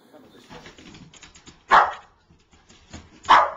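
A Boston Terrier barks twice, loud and close, with quieter whimpering and movement in between.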